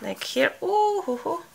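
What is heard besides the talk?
No everyday noises stand out.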